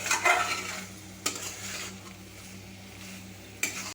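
Mashed potato stirred with masala in a hot pan for an egg omelette curry, a steady soft sizzle under repeated scraping and stirring strokes, with a few sharper utensil knocks against the pan.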